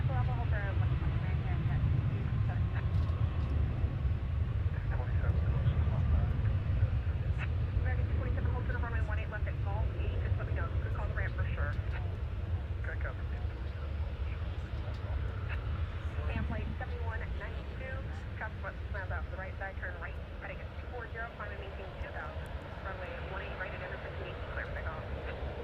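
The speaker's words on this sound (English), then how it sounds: "it's a battle of the little planes between the Embraer and the CRJ there" Embraer and CRJ regional jets taxiing at DFW airport, a steady broad jet-engine rumble and whine holding throughout at a moderate distance, with people talking over it.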